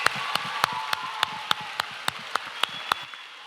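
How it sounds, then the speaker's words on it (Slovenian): Children applaud strongly in a school hall, a dense, even wash of clapping with sharp, regular loud claps ringing out about three times a second above the crowd. "Močen aplavz."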